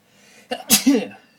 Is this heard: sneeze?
yes